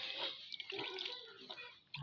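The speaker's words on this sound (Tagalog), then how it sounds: "tataktakan ko ng tubig ang bahog ng baboy" Water poured into pig feed slop, a soft, steady trickling and splashing up close at low level, with no voices.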